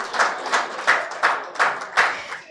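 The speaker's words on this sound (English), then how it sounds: "A round of applause for him, ladies and gentlemen." A small audience applauds a panelist, the managing director of St. Nicholas Hospital, at a televised business event: close, uneven hand clapping in loose bursts, fairly loud and brief, with no talk over it.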